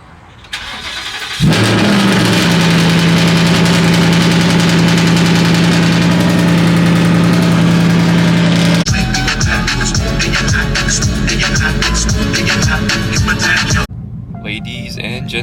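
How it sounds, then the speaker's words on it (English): A car engine cold-starts with a loud burst, revs high and steady, then drops to a rougher, busier idle that keeps running until near the end, close to the microphone with no talk. "Let's get this cold start."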